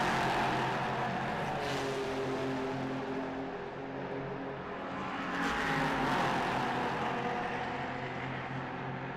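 Ginetta GT race cars at speed on the Barcelona circuit, a continuous distant engine roar that swells and fades as cars pass, steady and fairly loud with no voices.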